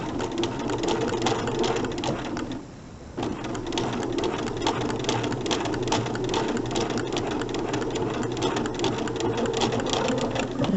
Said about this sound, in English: I'm going to sew along this diagonal line that I've drawn.